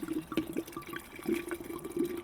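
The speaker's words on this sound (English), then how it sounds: "So we poured in our wine to the orange and the alcohol mixture." Spanish wine is poured into a mixture of orange and alcohol for summer sangria, giving a steady, gurgling liquid trickle that stays fairly quiet and continuous for a couple of seconds with no voice over it.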